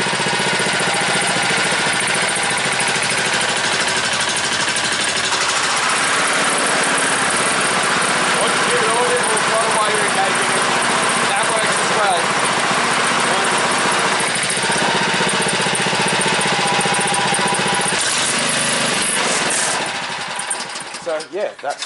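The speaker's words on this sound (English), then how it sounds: "Yeah, that's the mower running. It's got a nice sound to it" A Honda HRU216M1 walk-behind lawn mower engine runs steadily and loudly up close for about twenty seconds, with a constant rough drone that cuts off into sputtering near the end.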